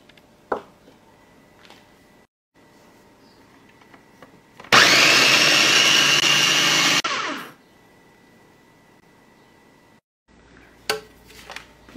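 Electric blender whirring steadily for a few seconds as it purées garlic, spices and a little water into a near-liquid marinade for Portuguese-style shish tawook, with quieter kitchen handling sounds before and after.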